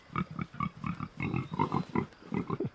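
Pigs grunting in a steady series of short, rough snorts and oinks, close by, with no talking.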